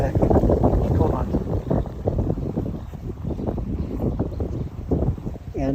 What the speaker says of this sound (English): Oh my god, it's windy as heck.